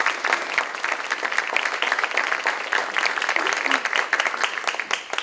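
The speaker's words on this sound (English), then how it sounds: "I want to say a round of applause for the planning team" Applause from a conference audience for the planning team at a day-two welcome session, a dense steady patter of clapping through the whole stretch, moderately loud and close, with no talk over it.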